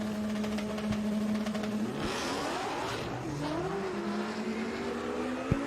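Street race cars at a drag racing event, a Boss 302 among them, roar loudly with sweeping rising engine pitch as they launch and accelerate down the track, a sharp pop near the end.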